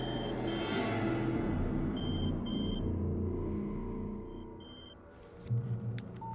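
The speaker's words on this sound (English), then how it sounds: "She was startled by the phone." A telephone rings in the video game Alan Wake Remastered, with repeated bursts of a high electronic ring standing out over a low, steady rumble of game ambience.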